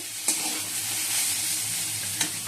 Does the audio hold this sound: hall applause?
no